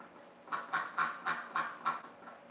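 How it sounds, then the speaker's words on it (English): A recovering injured duck quacks six times in an even, regular series, loud and close, with no other voices. "This is the slowest healing I've ever seen on a duck."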